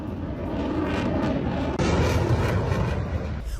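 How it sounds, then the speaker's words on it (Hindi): A loud, close fighter jet engine roars steadily during a military war drill, a broad rushing blast that swells slightly midway as the aircraft passes overhead. "F-35 F-15E फाइटर जेट के साथ वॉर ड्रिल को लेकर खबर।"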